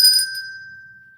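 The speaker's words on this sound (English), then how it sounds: "Why am I getting a ding dong?" A single bright electronic ding chime, loud and close, with a clear ringing tone that fades slowly over about a second, no voices.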